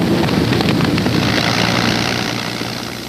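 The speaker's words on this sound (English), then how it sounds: "Spitfires and Hurricanes rise like hornets to meet the invaders." Spitfire and Hurricane fighter planes of the Second World War fly overhead, a steady loud propeller engine roar with a low droning hum, fading slightly toward the end.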